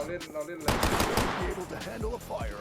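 Gunfire in the free-to-play shooter Black Stigma, with dense rapid shots layered over game music and effects and voices talking over the action.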